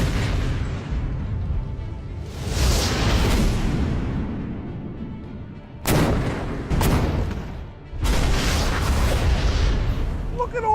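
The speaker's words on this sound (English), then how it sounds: "I'm going to blast holes in that boat with this cannon." Heavy, rumbling cannon blasts boom one after another, blasting holes in a boat, with sharp cracks and long roaring decays, loud and close.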